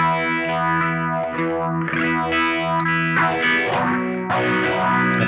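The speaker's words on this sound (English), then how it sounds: "I think this one's phaser." An electric guitar runs through a Phase 90-style phaser pedal, its gritty, distorted chords swept by a steady whooshing phase shift that rises and falls throughout, loud and continuous with no talking.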